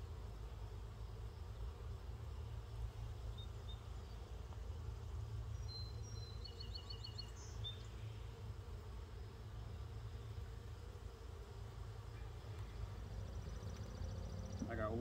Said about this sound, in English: this is a queenless hive